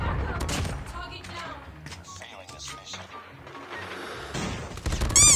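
P90 submachine gun firing in a first-person shooter video game, rapid bursts of automatic fire mixed with other in-game shots, clanks and impacts, busy and fairly loud throughout.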